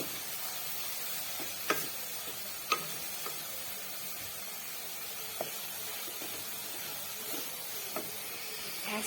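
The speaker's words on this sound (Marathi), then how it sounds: "झटपट हलवून घ्यायचं कैरीचा किस टाकल्यानंतर." Grated raw mango being stirred in a hot pan for murabba: a constant sizzling hiss with occasional sharp clicks of the spoon against the pan.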